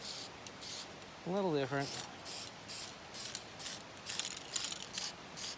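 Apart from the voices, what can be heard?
spraying clear coat on a guitar body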